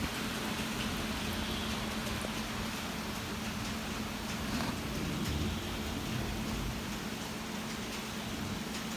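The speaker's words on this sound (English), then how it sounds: "And here is a shot of rain." Rain falls in a steady, even hiss through a dark thunderstorm night, a continuous soft wash with no voices.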